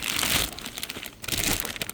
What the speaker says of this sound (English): They're packed in a plastic bag.